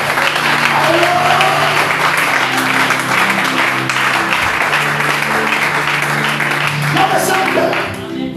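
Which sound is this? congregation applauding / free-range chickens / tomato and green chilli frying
congregation applauding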